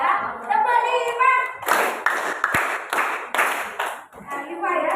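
Classroom group clapping in time: after children's voices, a set of five loud, distinct, evenly spaced claps rings out from many hands together, with voices resuming afterward.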